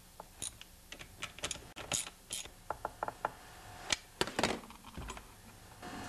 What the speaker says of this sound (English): I'll just re-tighten the nuts.